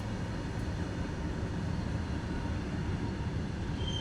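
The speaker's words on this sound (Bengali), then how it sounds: "দেখো অনেক তো ট্রেন যাচ্ছে এই যে এই যে ট্রেন যাচ্ছে" Steady low rumble with broadband roar, like a train rolling past nearby, continuous throughout with no voices.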